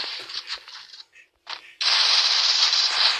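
A shooting video game fires short bursts of gunfire, then a brief quiet gap, and then a long sustained volley of automatic fire that continues loud and steady to the end.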